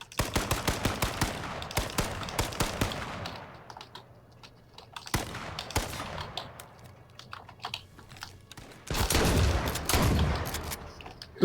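Gunfire in the video game H1Z1 comes in sharp bursts of quick shots separated by quieter gaps, mixed with clicky keyboard typing close to the microphone.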